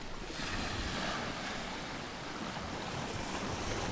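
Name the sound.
ocean waves around a sailboat at sea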